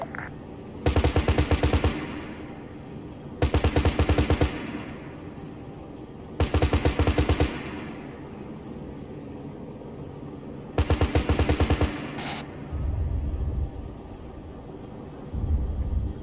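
Aircraft guns in ArmA III fire four long, roaring bursts, each about a second of rapid automatic fire trailing off into a rumbling echo, separated by an engine drone, with a heavier low rumble near the end.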